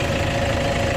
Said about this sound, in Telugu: మీకు బాగానే లేపి ఇంజన్ సౌండ్ కూడా వినిపిస్తా